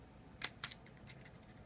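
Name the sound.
scissors cutting a small triangle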